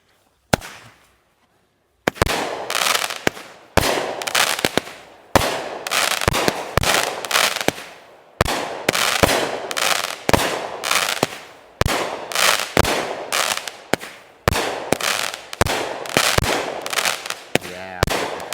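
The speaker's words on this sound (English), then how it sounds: "Backyard fireworks. All right, here we go with Magnificent Festival." A Magnificent Festival 25-shot backyard firework cake fires a long, rapid series of loud close bangs and crackles, each shot followed by a sizzling burst, after a brief quiet fuse lead-in.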